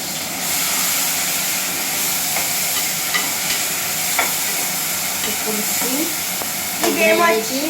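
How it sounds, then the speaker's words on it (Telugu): Ginger garlic tomato paste goes into a hot frying pan for crab and fish curry, giving a steady loud sizzle with stirring scrapes throughout, growing busier near the end. "ఇప్పుడు మా అమ్మమ్మ ఇందులో అల్లం వెల్లుల్లి టమాటో పేస్ట్ వేస్తుంది"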